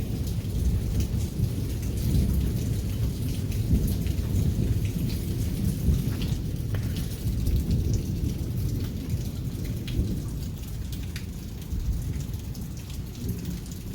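A thunderstorm pours steady rain over a constant low rumble of thunder, dense and loud throughout with a few heavier rolls, and no voices.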